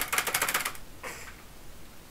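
Fast, even clatter of computer keyboard keys for under a second, close up, followed by a short second burst of keystrokes against low background noise, with no speech.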